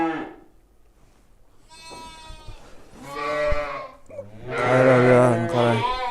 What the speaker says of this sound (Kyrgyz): Бар, чоң койлор экен.